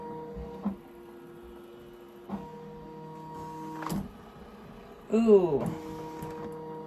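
A Ricoma EM1010 embroidery machine traces its design outline, moving in short motorized bursts with faint whirring hums between quiet pauses, then a longer sweeping whine near the end; a person briefly exclaims.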